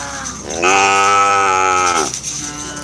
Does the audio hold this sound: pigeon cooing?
no